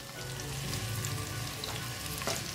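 Chopped onion, a piece of ginger, garlic cloves and tomato sizzling in a pan for a spinach and turnip dish, a dense, continuous frying hiss close by with a brief stir near the end.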